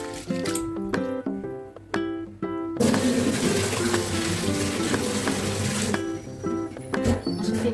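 Soaked wheat grains washed in water for kurdai: splashing and swishing in a vessel, with a steady pour of water in the middle and rhythmic knocks and sloshes around it.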